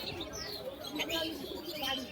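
Tumbler pigeons coo and chirp softly over a busy background of voices and general chatter at a market.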